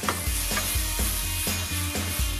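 Cumin, garlic, chili and red onions sizzle in a pan for a spicy tomato sauce, with a steady bright hiss and a few stirring scrapes.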